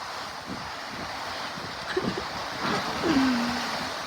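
Wind roars steadily during a storm with rain, a broad rushing noise that swells and gusts, with faint tonal sounds briefly rising above it.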